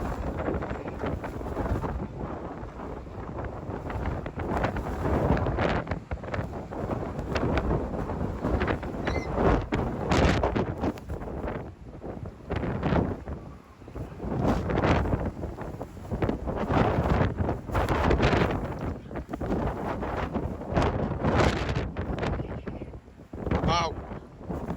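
Storm Darragh wind roaring along the Blackpool promenade at high tide, with sand blasting past; loud, continuous buffeting gusts batter the microphone throughout.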